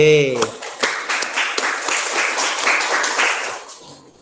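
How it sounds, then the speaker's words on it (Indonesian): Applause for a group B representative in a class session, a burst of scattered hand clapping that swells and then fades out near the end. "Silakan beri aplaus kepada perwakilan kelompok B"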